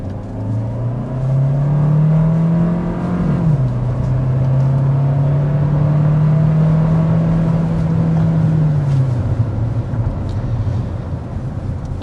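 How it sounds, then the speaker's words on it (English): 2025 Hyundai Tucson Limited hybrid with a 286-horsepower powertrain accelerating hard, a loud steady engine whine that climbs, holds, then drops as it shifts, heard from inside the cabin. "you might have noticed as I accelerated hard there"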